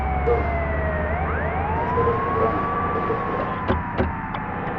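An ambulance siren in the driving game Bus Simulator Indonesia, a steady wailing tone sweeping up and down over a continuous vehicle engine rumble, with a couple of short knocks near the end.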